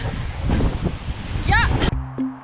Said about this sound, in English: It is really windy today.